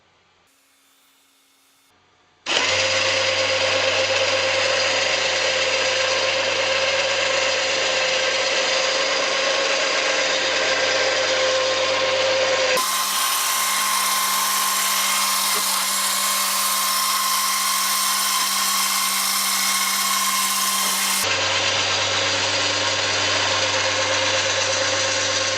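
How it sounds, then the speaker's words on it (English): Motorized winch hauls a rolling observatory roof closed on its cable, a steady close mechanical whine starting abruptly after near silence, shifting pitch midway and continuing without voices. "draws in this cable which pulls the roof closed, and it stops when it hits this micro switch"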